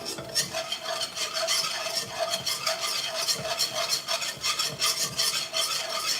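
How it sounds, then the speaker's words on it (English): A whisk scraping and stirring flour and butter together in a pan for a bechamel, with rapid, continuous rhythmic scratching close up and a faint sizzle underneath. "I'm gonna whisk together the flour and the butter to make a bechamel"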